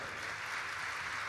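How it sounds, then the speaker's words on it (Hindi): An audience at a Bageshwar Dham Divya Darbar religious gathering claps in a steady, dense wash of applause. The clapping is fairly soft and continues evenly for just over a second. "और फिर ताली बजा भैया"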